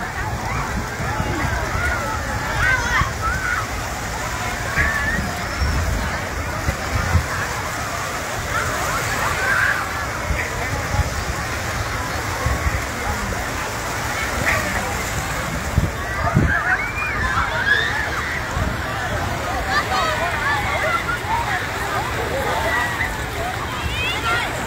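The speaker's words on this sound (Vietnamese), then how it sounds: "Chiều trên bãi biển Mỹ Khê, Đà Nẵng." Afternoon waves at Mỹ Khê beach in Da Nang wash and slosh continuously in a steady surf roar, with a babble of distant beachgoers' voices mixed underneath throughout.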